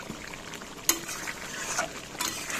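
Kitchen dishes are scrubbed and washed by hand, with soft rubbing and watery swishes broken by a sharp clink of utensils. It is close and moderately quiet, with no voices.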